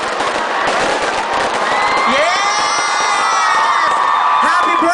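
New Year fireworks crackle and whistle in a dense, continuous volley while a crowd cheers and shouts loudly nearby, rising whistles threading through the roar.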